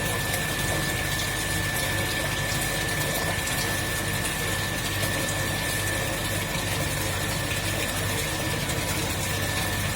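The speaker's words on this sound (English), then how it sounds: "So water is rising here" A steady, continuous rush of water pours and churns into a measuring tank in a triangular-notch discharge experiment, alongside a constant mechanical hum, unchanging throughout with no voices.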